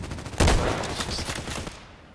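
Burst of HK417 rifle fire in a shooter game, a loud crack at the start followed by a rapid rattle of shots that trails off after about a second and a half.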